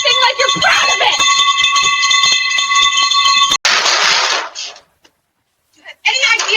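A bell rings loudly on a porch at night, its piercing, ringing tones sustained and overlapping at close range, then cutting off into harsher, noisier clatter with brief pauses of silence.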